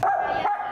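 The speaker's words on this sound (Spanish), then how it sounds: "nos recibió con el particular ladrido del perro" A dog at a house barks once, a short loud yelp close by with no talk.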